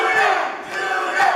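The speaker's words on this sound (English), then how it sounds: "as the crowd here is solely behind Mark the Sharpshooter Roberts" A crowd at an independent wrestling tournament match roars and cheers in a loud, continuous wash of voices that dips briefly midway and then swells again.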